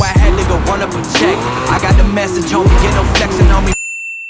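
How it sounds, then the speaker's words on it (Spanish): Japanese car driving on a road in Japan, with loud passing whooshes and rhythmic thumps repeating about every second, close and steady, ending abruptly in silence. "Primera toma de contacto con un coche japonés"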